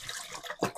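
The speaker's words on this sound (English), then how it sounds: "As I go up and down, you see the water flushes through the valve" Water rushing through the valve of a Pinter 3 during a rinse, a short watery splash and gurgle that surges near the end of the brief clip.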